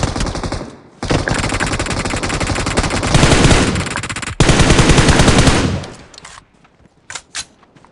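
Sustained, loud automatic gunfire in PUBG Mobile, close and heavy in long continuous bursts with a brief pause, then trailing off into a few scattered distant shots.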